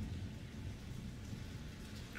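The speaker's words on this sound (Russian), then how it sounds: "гром гремит за окном" Distant thunder rumbles low and continuous beneath steady rainfall in Zaporizhzhia, faint and muffled as if heard from indoors through a window.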